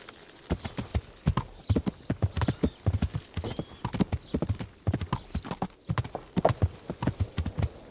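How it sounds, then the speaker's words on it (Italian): Horse hooves clip-clop at a steady walking rhythm in the medieval game Kingdom Come: Deliverance, close and distinct, with faint speech in the background. "Il cavallo, avete visto? Eccolo qua."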